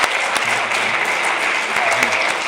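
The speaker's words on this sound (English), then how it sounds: "can you join me in just stating your appreciation with a round of applause?" Audience members at an evening forum give a round of applause for three guests. The clapping is steady and continuous, with a few scattered louder hits and faint murmurs underneath.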